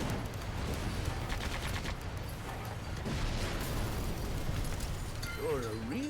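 Main gun of a vehicle firing in the video game Sand Land: heavy, booming blasts over a constant rumbling game mix, with talk and a brief whistling tone near the end.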